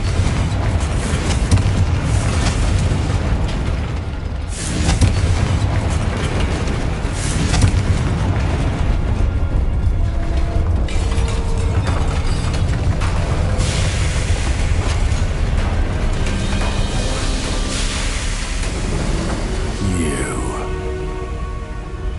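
Booming blasts and rumbling explosions from spellcasting combat in Hogwarts Legacy, including a Confringo blasting spell, loud and dense for a long stretch, with voices calling out over the din.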